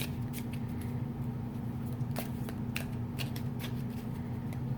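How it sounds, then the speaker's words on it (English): A large, thick deck of playing cards being shuffled, producing continuous close riffling and rustling with repeated crisp flicks and no speech over it. "They're a little hard to shuffle with this many cards."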